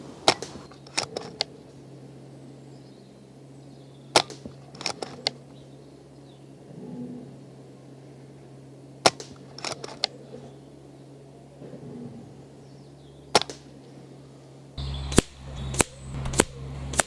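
Shots from an FX Wildcat Mark III air rifle ring out as sharp, close cracks in small clusters of two or three, separated by quiet pauses, with a final quick run of shots at the end.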